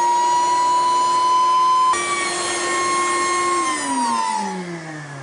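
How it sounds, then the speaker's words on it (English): A homemade kitchen vacuum former runs with a loud, steady vacuum motor whine that holds level, then its pitch sags and slides downward near the end as the load changes; no voices are heard. "And on goes our vac."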